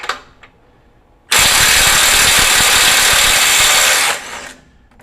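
A Milwaukee 2953 Gen 4 M18 FUEL impact driver hammers on a heavily torqued bolt in one loud, sustained rattling burst of about three seconds, close up, with quiet handling before and after.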